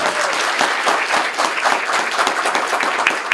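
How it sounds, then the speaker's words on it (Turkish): Wedding guests applaud the bride at a civil ceremony, a dense, lively burst of clapping from a nearby crowd lasting a few seconds without talk. "Alkışlıyoruz gelin hanımı"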